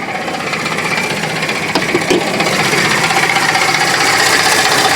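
Ford 5.4L Triton V8 in an Expedition running with a failing idler pulley, a steady rough engine drone with rattling, grinding mechanical noise close by.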